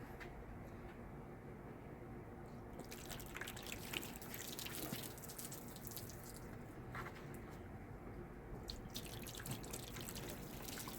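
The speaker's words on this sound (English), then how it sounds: "Just run some water over it and see how it beads up." Water pours and splashes steadily over the ceramic-coated body of a 2017 Jeep Sahara, a continuous close running and dripping sound with bursts of heavier spatter.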